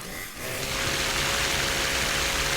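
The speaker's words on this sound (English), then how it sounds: "Stay back! I got a chainsaw!" A chainsaw runs steadily in Fallout 76, giving a loud, continuous buzzing whine with a sharp mechanical rasp. It holds without a break after a brief dip at the start.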